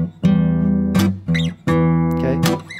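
Hill country blues guitar riff, played with a backhand strum, a few sustained plucked notes punctuated by sharp percussive strums, close and clear with no talking.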